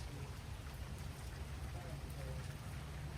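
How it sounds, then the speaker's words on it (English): Steady rain falling as it eases off outdoors near a butterfly garden, a dense even hiss with low rumble underneath and no distinct drops, constant throughout. "the rain's letting up"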